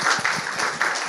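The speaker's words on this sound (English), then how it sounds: "Round of applause, please." A conference audience at a security talk claps briefly, a short, moderately loud burst of mixed hand claps from a seated crowd.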